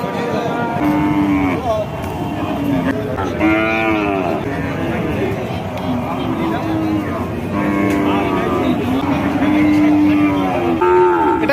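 Cattle and calves, including Friesian, Jersey, crossbred and Nepali heifer calves, moo repeatedly at a busy livestock market. Long, drawn-out calls rise over a steady crowd murmur and nearby conversation.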